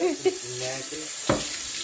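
Water runs from a tap over a hand at a sink, a short splashing gush with a brief louder splatter partway through, close by, with a voice faintly in the background.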